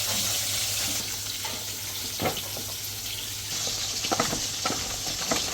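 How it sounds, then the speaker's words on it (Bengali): Chopped onions mixed with turmeric fry in a pan, giving a steady sizzling hiss with occasional scraping and stirring clatters, up close with no talking. "এটার মধ্যে পেঁয়াজ মেখে পেঁয়াজ ভাজবো একটু"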